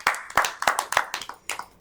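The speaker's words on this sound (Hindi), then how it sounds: "एक बार जोरदार तालियां" A small audience at a Hindi poetry recital claps, giving a brisk, close burst of uneven handclaps that rises and tapers over about two seconds, with no voices.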